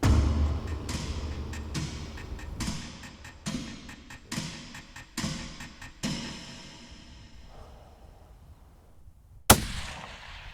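A single sharp, loud rifle shot cracks out near the end during a hunt in New Zealand, preceded by a run of softer irregular thumps and handling knocks with no speech.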